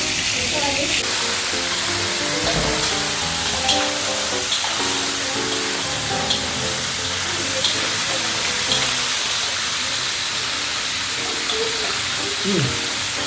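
Black pepper crab cooks in a covered pan, giving a steady steamy hiss and sizzle that runs without a break, with a voice talking over it now and then.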